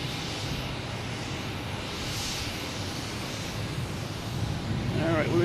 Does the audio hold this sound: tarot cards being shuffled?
no